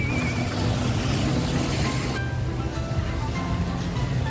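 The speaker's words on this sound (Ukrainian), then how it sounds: "Оце басейн з хвилями, але вони якось е, вмикаються чи по часу" Artificial waves churn in a wave pool at a water park in Odesa, a broad steady wash of rushing water with faint background voices and a change in texture partway through.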